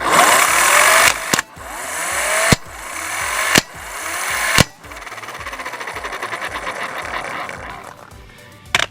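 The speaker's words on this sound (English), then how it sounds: "Impact the lug nut back on the wheel." An electric impact wrench tightens car lug nuts in four short loud rattling bursts separated by brief pauses, followed by a longer steadier buzzing run that fades at the end.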